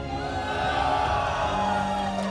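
Crowd noise from the audience at a Guilty Gear Strive Top 8 tournament: a steady, dense roar of voices holding at one loud level for a couple of seconds, with no single voice standing out.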